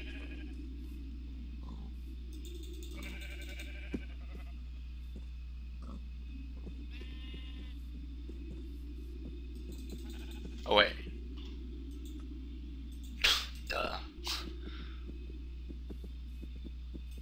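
Sheep in a survival video game bleat a few times over a steady low hum, with short sharp cries standing out around the middle and toward the end of the stretch.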